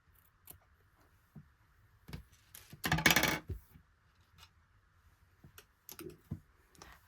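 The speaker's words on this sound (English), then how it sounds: "So now I'll just cut it off" Scissors snipping a crochet yarn tail, a few quiet sharp clicks and rustles close by, with one louder cluster of handling noise in the middle.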